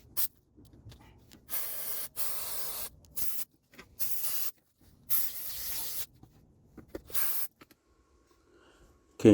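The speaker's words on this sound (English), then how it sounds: "I want to hit everything with the brake cleaner" Short bursts of brake cleaner spray hiss on and off on an Acura MDX's rear brakes, five or six bursts of a second or so each, separated by quiet pauses.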